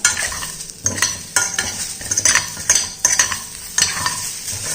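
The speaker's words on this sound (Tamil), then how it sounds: "எல்லாத்தையும் நல்லா மிக்ஸ் பண்ணிக்கிறோம்ப்பா." A spoon stirs and mixes a breakfast dish with chopped coriander leaves in a hot pan, with repeated scraping strokes over a soft sizzle, close and alone.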